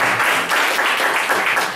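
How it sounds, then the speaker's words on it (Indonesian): Short burst of audience applause for SB 12 at a school gathering, steady dense clapping throughout with no voices over it. "Tepuk tangan dong buat SB 12."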